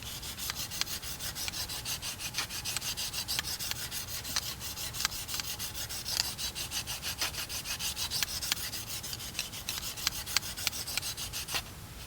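A knife blade with a 20-degree grind is worked gently back and forth against a sharpener, giving a steady, close rasping rub with faint repeated stroke clicks throughout and no talking.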